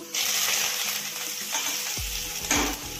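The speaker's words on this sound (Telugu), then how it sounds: "పులుసుకి తిరగమాత పెట్టుకుంటున్నామండి" Mustard seeds, fenugreek, cumin, dals, dried red chillies and curry leaves crackle in hot oil in a pan for a pulusu tempering, a steady sizzle broken by a few sharp clinks of a utensil against the pan.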